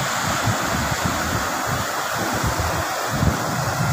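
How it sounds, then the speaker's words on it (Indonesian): Strong sea waves and surf at Pantai Oya beach in Mukah, a steady loud wash of breaking water with wind buffeting the microphone, continuous and close with no voices. "arus agak deras, ombak kuat."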